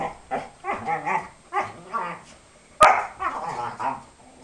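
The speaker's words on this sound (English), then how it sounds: "you just see a lot of mouthing and play growling" Dogs growling playfully in short rumbling bursts, with a sharp snap or yelp partway through, fairly close, between stretches of quiet.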